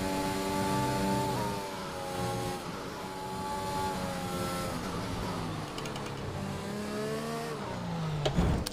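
Race car in F1 2021 on the Imola circuit spinning out, a loud close engine wailing and sliding in pitch as the revs swing up and down, ending with a sharp drop and a burst of revving.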